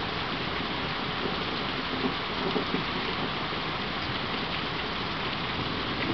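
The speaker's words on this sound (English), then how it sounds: "we are getting shit tons of rain and lightning" Heavy rain pours steadily during a night storm in Grand Rapids, making a dense, unbroken hiss close by with no distinct thunderclaps standing out.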